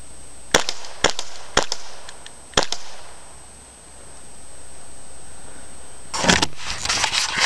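A WE Hi-Capa 1911 Government V2 airsoft pistol fires four sharp single shots at irregular intervals, followed by a quiet pause and then a rapid cluster of clicks and rattles, with no talking.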